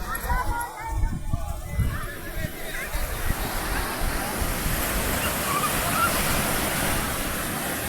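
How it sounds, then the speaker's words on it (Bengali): Surf roars steadily along the shore at Cox's Bazar beach in Bangladesh, a broad continuous wash of waves, while horses used for hired rides whinny and clop nearby, loudest in the first seconds. "অবশ্যই আপনারা কিন্তু সমুদ্রের গর্জন শুনতে পাচ্ছেন।"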